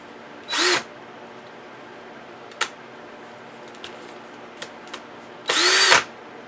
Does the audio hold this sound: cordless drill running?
yes